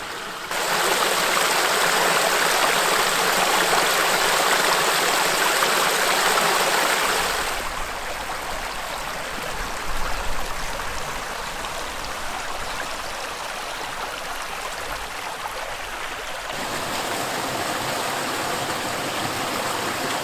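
Flowing river water rushes in a steady broadband wash, louder at first then easing slightly, continuous with no talking.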